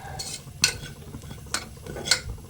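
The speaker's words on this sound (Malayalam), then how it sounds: "ആ കുത്ത് പോകണമെന്നുണ്ടെങ്കിൽ നമ്മൾ കുറച്ച് നേരം നല്ല ഇളക്കി കൊടുക്കണം" Masala being stirred in a pan for quail curry, with a few sharp scraping strokes of a spoon against the pan over a low sizzle, close and fairly loud.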